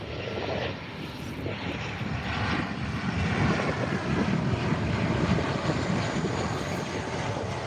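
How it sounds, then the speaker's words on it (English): A Qantas Boeing 737 jet comes in to land at Adelaide Airport, its engine roar loud and steady throughout, a broad rumbling drone that swells slightly midway and holds without voices. "As a Qantas 737 comes into land now."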